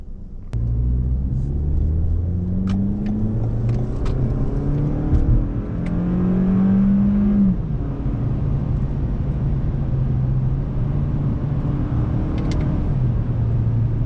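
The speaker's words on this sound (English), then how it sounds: "Just pure fun on these, you know, like 4-cylinder high rev engine." A 2018 Toyota Camry's four-cylinder engine revs high and hard, its pitch climbing and falling in steady sweeps over a constant low rumble, loud and close throughout.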